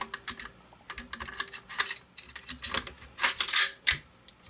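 Metal clicks and clacks from a bolt carrier being slid back into a Smith & Wesson M&P 15 Sport II rifle, a close, irregular series of sharp taps and scrapes, no talk.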